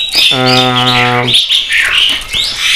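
A hybrid starling, white starling (jalak putih) crossed with jalak kebo, gives one loud harmonic call followed by bright, rapid chirps and whistles, close and clear.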